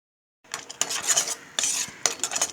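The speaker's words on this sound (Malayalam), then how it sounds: "ഞാനിവിടെ 1/2 ടീസ്പൂൺ ഈസ്റ്റ് കുറച്ച് ചൂടുവെള്ളത്തിലൊന്ന് മിക്സ് ചെയ്ത് വെക്കുകയാണ്." Metal spoon clinking and scraping against a bowl while half a teaspoon of yeast is stirred into warm water, a run of quick bright taps and scrapes in short bursts, close and fairly loud, with no talking.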